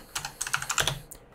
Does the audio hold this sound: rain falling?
no